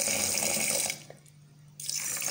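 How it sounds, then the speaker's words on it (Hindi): Water runs and splashes from a faucet onto half a kilo of sugar in a bowl, a steady close rush that stops briefly in the middle and then resumes. "और इसके अंदर हमने पानी डालना है।"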